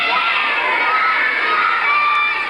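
A crowd of children cheers and shouts loudly and steadily, a dense bright wall of young voices with no pauses.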